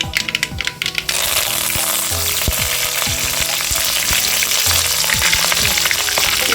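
Curry leaves dropped into hot oil while making spicy onion chutney: a soft clatter, then a loud, close, continuous crackling sizzle with sharp pops throughout.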